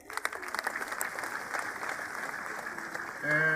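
An audience claps at a gathering where sewing machines are handed out, a steady, moderately loud patter of many hands that runs throughout and swells near the end.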